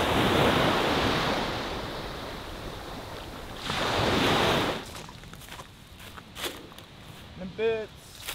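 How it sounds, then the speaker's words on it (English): Ocean waves wash steadily onto an island shore as the tide comes in, a broad continuous surf roar with one swelling surge, then quieter wind buffeting and someone talking near the end. "tide's coming in."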